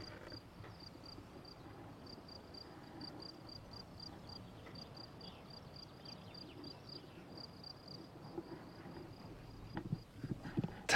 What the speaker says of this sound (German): das sind die Grillen, die Zirpen und die Vögel